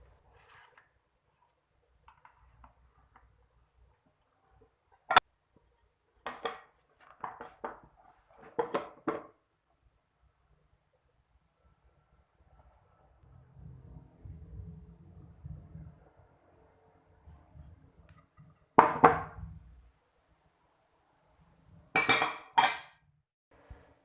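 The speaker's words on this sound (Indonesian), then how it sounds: "Sisir bagian pinggir roti agar memudahkan kita saat nanti roti dikeluarkan." A knife scraping and tapping around the edges of a freshly steamed chocolate brownie in its baking pan, with scattered metallic clinks and scrapes in short bursts, separated by quiet stretches and some low rustling.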